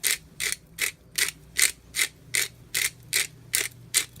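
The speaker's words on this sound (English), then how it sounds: "I'm also going to add some peppercorns medley that I'm going to grind here" A hand grinder cracks a peppercorn medley in about eleven regular twisting bursts, each a dry ratcheting crunch, close and fairly quiet with no speech.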